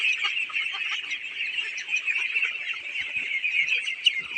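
A flock of ducks at a duck farm keeps up continuous overlapping quacking and honking calls at a moderate, steady level throughout, with no voices.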